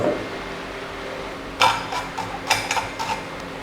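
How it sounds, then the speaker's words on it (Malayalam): Blended orange, ginger and sugar are strained through a metal strainer into a bowl, heard as a quiet stretch followed by several sharp, close metallic clinks of utensil against strainer and bowl. "അപ്പോൾ ഞാൻ ഈ ബൗളിലോട്ട് ഇത് ഒന്ന് അരിച്ചെടുക്കുകയാണ്."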